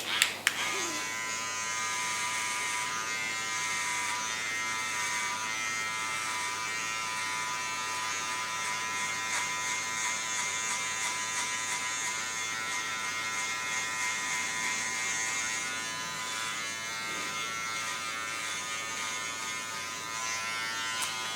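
Hair clippers with a 1.5 guard and the lever fully open, tapering hair: a steady close electric buzz that runs continuously with small changes in tone as the blade moves, no talking.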